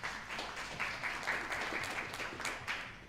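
An audience at a school board meeting breaks into applause, giving soft, steady clapping from a room full of people that stays fairly faint and distant throughout.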